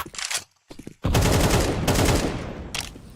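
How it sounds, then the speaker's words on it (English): A grenade in Counter-Strike 2 is thrown and explodes into a loud, sustained blast with rumbling, crackling debris. Short clicks and gunfire-like bursts come first, and the noise trails off over about two seconds. "Throwing a grenade."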